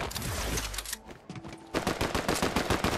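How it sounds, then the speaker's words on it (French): Rapid gunshots in the video game Fortnite, dense rattling bursts of automatic fire with a short lull in the middle, then a renewed loud volley of quick shots. "Ah, on m'a tiré dessus"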